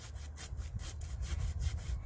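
A handsaw cuts through a tree trunk being felled, its strokes rasping in a quick, even back-and-forth rhythm, close and moderately quiet.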